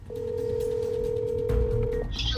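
A phone call being placed: a steady dial or ringback tone holds for about two seconds, then a brief burst of higher tones follows, all with faint room noise and no talking.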